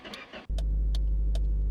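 A car engine starts in the driving game My Garage: a short crank, then the engine catches and settles into a loud, steady low idle with faint periodic ticks, no voices.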